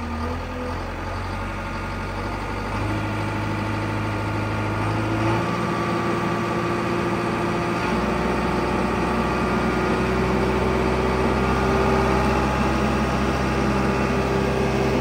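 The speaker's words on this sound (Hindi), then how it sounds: "चलो बढ़ाओ धीरे धीरे आरपीएम।" Diesel engine of a Mahindra Arjun Novo tractor with its loader raised, running loud and steady close by, its low rumble rising gradually as the revs climb, with no voices over it.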